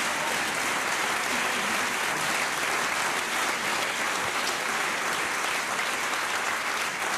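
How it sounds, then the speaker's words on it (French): Audience applause at a literary stage reading, dense and sustained clapping from a large crowd at an even level for several seconds. "Applaudissons-le."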